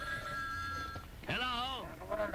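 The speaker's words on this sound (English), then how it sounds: "Oh, there's the phone again." A telephone rings with a warbling electronic trill on a radio show, heard close and clear amid background music, with a voice speaking briefly around it.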